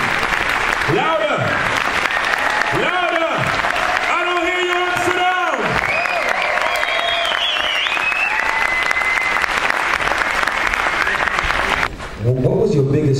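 A festival audience gives loud, sustained applause for a documentary's editor, steady clapping running throughout. Voices and shouts cut in over the top, and a voice speaks again near the end.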